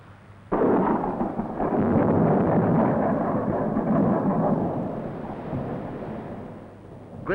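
A long, heavy rumble of thunder from a lightning storm at sea breaks in suddenly and rolls on for several seconds, gradually fading, with a faint crackle near the end.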